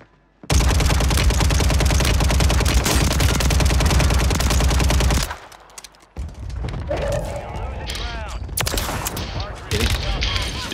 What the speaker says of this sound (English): I'm getting shot from the other side now.